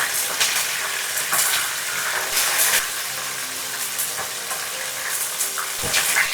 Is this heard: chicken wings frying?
yes